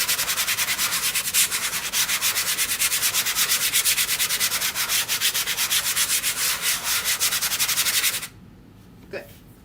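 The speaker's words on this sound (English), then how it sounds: "Just a little light sanding on that." Light sanding on painted furniture: quick, rhythmic back-and-forth rasping strokes, close and loud, stopping abruptly near the end with a brief faint knock.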